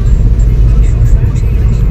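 Steady low rumble of a passenger train running on the Kolkata to Varanasi route, a continuous loud roar and rattle heard from inside the carriage with no pause.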